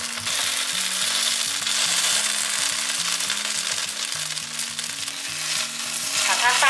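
Pancake wrap with softened cabbage frying in a pan, a steady broad sizzle holding loud and even throughout with a low background hum and no talk.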